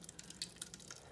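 Beef birria broth being poured back into a slow cooker container, heard as faint, sparse dripping and trickling splashes with no talk.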